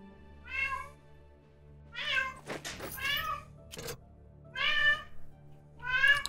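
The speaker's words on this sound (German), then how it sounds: "im Hintergrund hört man meinen Kater schreien" A male cat meows in the background, five drawn-out cries spaced a second or so apart, with a few soft knocks and thuds in between.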